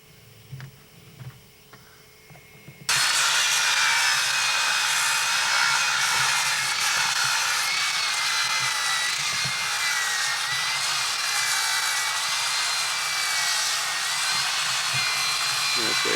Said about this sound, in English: go ahead and saw them down with your chainsaw